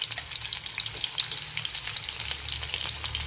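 Chopped onions fry in a spoonful of hot oil in a pan, a steady bright sizzle with occasional stirring scrapes, close and continuous with no talk.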